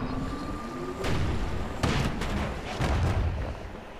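Power Shot attack in the video game Bastion, several heavy booming blasts in succession with thumping impacts over a continuous game soundscape.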